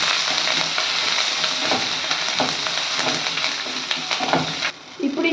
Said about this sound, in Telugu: కరివేపాకు వేసి వేయించుకోవాలి.